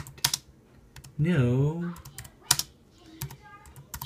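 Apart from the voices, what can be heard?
typing on a new wireless keyboard from eBay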